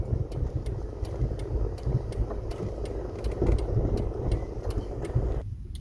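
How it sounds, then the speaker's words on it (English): Cars passing nearby on a road, a steady engine and tyre rumble with faint ticking above it and a brief drop near the end. "There's cars following me."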